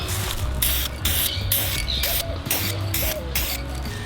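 Aerosol primer sprayed onto Akebono brake calipers from a G35, heard close as a series of short hissing bursts in a steady on-off rhythm, with no talking.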